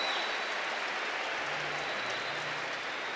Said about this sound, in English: And applause to start the ceremony.